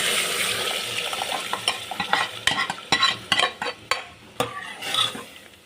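Dried red chillies frying in hot oil for idli sambar, a steady sizzle broken by scraping stirs and metal spoon clinks against the pan, close and fairly loud, with no talk.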